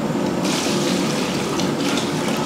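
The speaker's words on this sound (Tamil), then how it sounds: "இப்போ நம்ம தண்ணி சேர்த்துடலாம்." Water gushes into a large pot of sautéed chicken for a big batch of biryani, a loud continuous pour with a rushing splash that swells briefly partway through.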